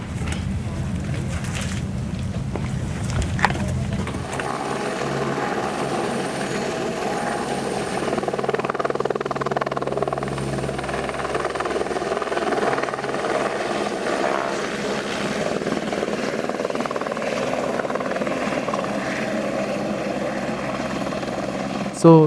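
A helicopter lifts off from a helipad in Nepal close by, its steady rotor and turbine roar holding loud and continuous after a louder opening burst, with voices talking underneath.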